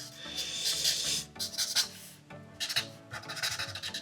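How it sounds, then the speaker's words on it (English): Pen strokes colouring in a Peelverine drawing, with soft, close scratching and rubbing of the nib across paper in short repeated bursts, quiet and without speech. "So I'm just going to bring my pen along there, like that."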